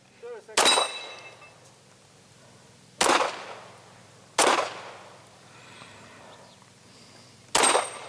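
Pistol shots at an outdoor shooting range fire singly and well spaced, four loud sharp cracks with short echoing tails and quiet gaps between them.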